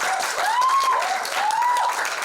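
An audience at a song launch event bursts into loud, sustained applause, a dense wash of clapping close by, with a few whoops rising over it.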